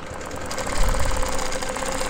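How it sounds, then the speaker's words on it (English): A domestic or longarm sewing machine stitches a channel across a quilt guided by a wavy quilting ruler, a steady mid-level motor hum with rapid rhythmic needle pulses throughout. "I'm going to stitch about a half inch up from the first line to create a channel."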